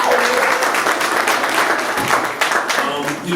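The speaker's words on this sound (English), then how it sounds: "We're going to clap it up for her." Audience applause at a Chicago gun violence prevention conference: a dense, steady wash of many hands clapping, close and loud for the whole stretch, easing slightly toward the end.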